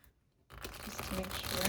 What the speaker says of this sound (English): I'm going to shuffle a few times